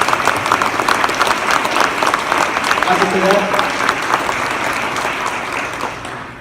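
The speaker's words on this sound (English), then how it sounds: "If we can give them a round of applause." A crowd claps in a round of applause for the booster volunteers at a gathering, brisk and fairly close, while a voice speaks over it and the clapping tapers off toward the end.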